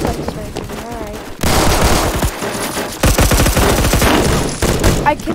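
Shotgun gunfire in the Roblox shooter Phantom Forces comes as loud, close blasts in rapid bursts and overlapping volleys, with brief gaps between them and a faint voice underneath.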